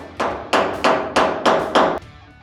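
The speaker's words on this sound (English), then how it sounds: "let me just grab my hammer real quick" A hammer strikes a Dodge Charger body panel five times in an even rhythm. Each blow is loud and close, with a short metallic ring, and no one speaks.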